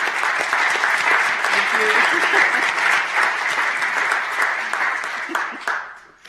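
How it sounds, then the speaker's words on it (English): Applause from the audience at a Clark County, Nevada public meeting, a sustained clatter of many hands clapping that holds steady for several seconds and then tapers off quickly at the end. "give you a round of applause for all the work that you've done"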